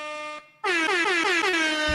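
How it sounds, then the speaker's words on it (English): A loud air horn blares in two blasts, a short one and then a longer wavering one, harsh and close. "Thank you for my air horn"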